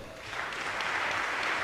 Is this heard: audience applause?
yes